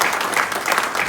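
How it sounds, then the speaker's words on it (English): Members at a new member induction meeting break into brief, brisk applause, a short burst of close, fairly loud clapping from a modest group. "Let's have a big round of applause for all."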